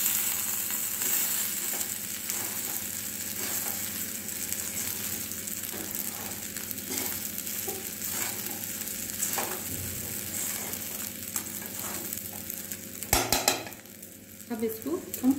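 Sabudana khichdi with fried peanuts and potatoes frying in a pan while being stirred, a continuous close sizzle with scraping spoon strokes and a burst of clattering utensil knocks near the end.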